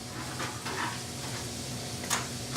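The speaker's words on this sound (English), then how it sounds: "At this point, we're going to add the chopped celery and onions." Chopped celery and onions hit hot rendered fat in a pan, a dense, even sizzle close by, with a sharp metallic tap near the end.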